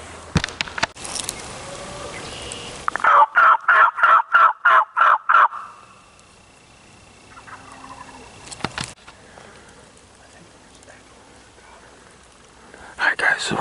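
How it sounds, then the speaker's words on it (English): Wild turkeys gobbling in spring woods on a Pennsylvania opening-day hunt, a rapid run of about eight sharp gobbles in a burst from birds still on the roost, fairly close, followed by quieter bird calls and faint rustle. "by the sounds of things, we got two birds going off, and I think they're still on the limb."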